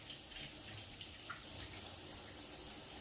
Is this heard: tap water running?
yes